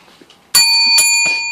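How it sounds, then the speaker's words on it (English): A bell is rung sharply three times in quick succession, each strike bright and ringing with a sustained metallic tone, loud and close after a moment of near silence. "You have to ring the bell to get a question."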